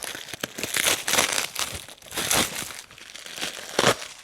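Paper wrapping on a Labubu collectible toy box is crinkled and handled up close, giving a continuous run of loud crackling bursts with short pauses and no talk.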